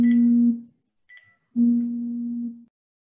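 Telephone tones as a call is placed on a live online broadcast: a long, loud, steady buzzing tone, a short faint blip, then another long tone, with no talk.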